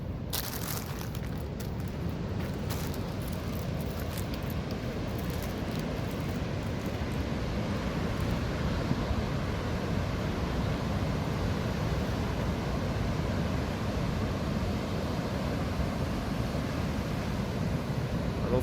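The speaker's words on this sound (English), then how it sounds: "Those waves are pretty big." Big ocean waves crashing on shore near Salinas, heard as a continuous loud roar and rumble of surf with wind noise, steady throughout and without any voices.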